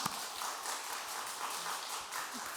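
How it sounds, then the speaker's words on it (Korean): Steady applause from a small church congregation during Sunday worship, a dense patter of hand claps that holds at an even level for a few seconds. "박수 한번 보내줍시다"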